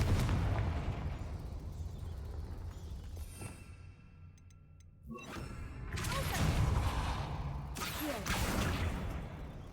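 Confringo blasting spell in the Hogwarts Legacy video game, a booming, rumbling explosion with crashing debris, followed by further heavy blasts and whooshes over a busy game soundscape.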